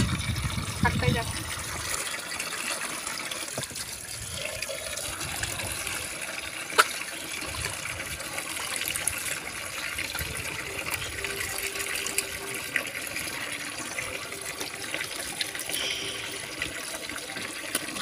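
Tap water runs steadily over leafy greens being washed in a home kitchen, a continuous splashing gush heard close by with a voice speaking over it.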